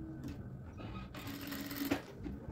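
A sewing machine stitches a fabric piece onto a blouse side seam, a steady mechanical whir with a rhythmic needle clatter running throughout, close and clear.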